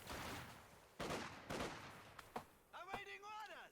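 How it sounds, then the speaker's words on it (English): Machine gun fire in the Company of Heroes 2 strategy game, several bursts of rattling shots over a rumbling battlefield, with a commentator's voice briefly heard near the end. "MG suppresses, and that now gives Nogano the control in this area."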